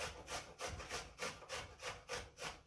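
A cucumber is grated by hand, giving a quiet, evenly paced series of about eight rasping scrapes, each stroke rising and falling in turn with no talk.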